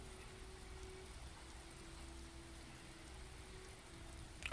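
Steady rain falls in Skyrim, a constant soft hiss of drops spread evenly across the whole stretch with no voices, sounding slightly odd and thin.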